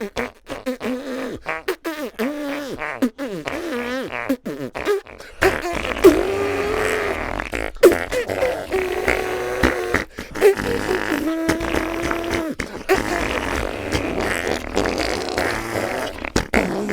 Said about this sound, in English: you can create a fart symphony that plays classical hits through a special fart